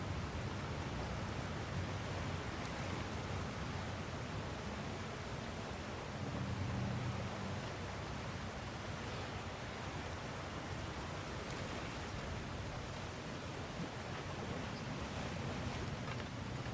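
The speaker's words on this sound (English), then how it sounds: "Sounds like you got the water moving along, brother." Flowing water in the God of War Ragnarok video game, a steady broad rushing wash with no voices, constant for the whole stretch with a slight swell midway.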